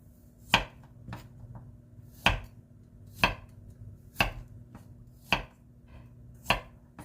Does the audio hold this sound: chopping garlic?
yes